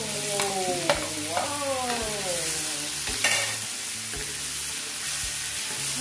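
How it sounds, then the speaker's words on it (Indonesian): Shrimp stir-fried with spices in a hot pan, with steady sizzling and frying hiss broken by repeated scraping and clacking strokes of a spatula, close up, with a brief tonal whine near the start. "oseng-oseng. Bermasukkan bumbu."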